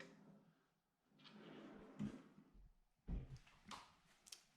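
Drawers of a bathroom vanity in a remodeled master bathroom slide and shut, with a few quiet, close thuds and sliding rasps spread over a few seconds.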